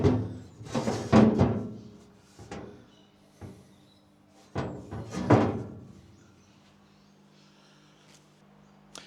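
Drawers being fitted into a South African braai unit: two close clusters of hard wooden-sounding knocks, thuds and sliding rattles, several seconds apart, with quieter scrapes and bumps between them.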